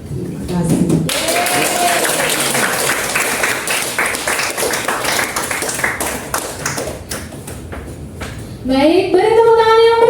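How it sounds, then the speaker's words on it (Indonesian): Audience applause at an Indonesian teachers' positive-culture dissemination session, a dense continuous patter of clapping lasting several seconds, with a voice speaking near the start and again at the end. "beri tepuk tangan yang meriah untuk Ibu Risa."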